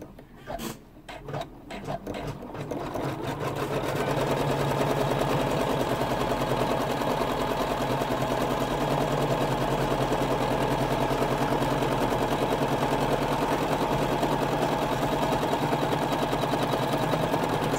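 Embroidery machine stitching bar tacks during a cutwork embroidery project, a few uneven starting stitches that quickly settle into a loud, fast, steady mechanical rattle running continuously to the end.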